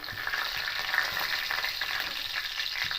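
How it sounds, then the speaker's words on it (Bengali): Whole cumin seeds, two dried red chilies and a bay leaf crackle and sizzle in hot oil as tempering for a vegetarian moong dal. The frying hiss is continuous and close, with small pops and stirring throughout. "গোটা জিরে ফোড়ন দিলাম দুটো শুকনো লঙ্কা দিলাম একটা তেজপাতা দিলাম"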